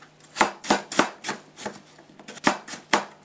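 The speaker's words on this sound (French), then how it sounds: "je dis justement de couper grossièrement" Apples are coarsely chopped for compote with a knife on a cutting board, about a dozen crisp, close strikes in an uneven rhythm, alone with no talking.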